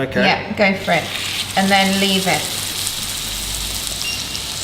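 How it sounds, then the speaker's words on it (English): A steak sizzles steadily in a hot oiled frying pan, a constant crackling hiss close by, heard under and after brief talk between two people. "That sound is what you want to hear, is the lovely sizzle."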